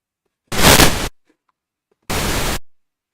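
Two bursts of filtered pink noise for music production, a loud hiss of roughly half a second followed after a gap by a second similar burst, close and dry with silence between.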